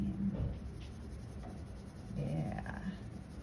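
Soft scratchy strokes of colored pencils shading on paper, layering blue, quiet and close, with gentle back-and-forth rubbing.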